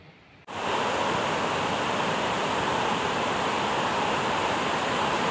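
Heavy cascading water from Pollur waterfall roars as a steady, loud broadband rush, starting abruptly after a brief quiet moment and holding constant throughout with no voices.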